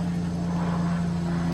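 A helicopter flying overhead near a construction site, a steady droning hum with a low throbbing tone held continuously at moderate loudness.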